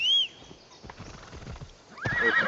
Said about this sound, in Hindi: मैं मेरे घोड़े को बुला लेता हूँ।